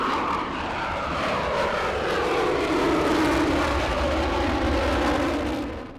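A Panavia Tornado, a multi-role combat jet with variable-geometry wings, flies past with a steady, loud engine roar that holds for several seconds before it starts to fade at the end.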